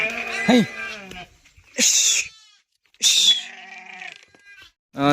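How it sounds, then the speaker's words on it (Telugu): Village sheep bleat loudly and close by, three separate wavering calls with short pauses between them. "ఇక మన గొర్రెలు అయితే వెళ్ళిపోతాయి తడక తీసుకొని అయితే మన గొర్రెలు అయితే వెళ్ళిపోతాయి"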